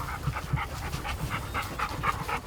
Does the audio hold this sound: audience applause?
no